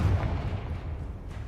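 Confringo blasting curse in the Hogwarts Legacy video game, a single deep booming explosion with a rumbling low tail fading over a second and a half, loud and close.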